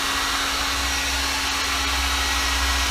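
A heat gun blows continuously to shrink heat shrink tubing on a 1977 Pioneer SX-525 stereo receiver, a steady close airy roar with a fixed motor hum, alone and unchanging.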